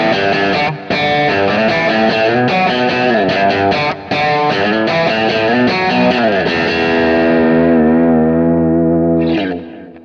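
A heavily distorted, bright electric guitar through a high-gain Kemper amp profile plays sustained chords and notes, loud and saturated with a sharp top end, fading out at the finish.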